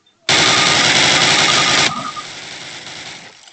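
Thompson submachine gun in Call of Duty, one long continuous burst of rapid automatic fire, loud and close, lasting about a second and a half before cutting off into fading echo and room noise.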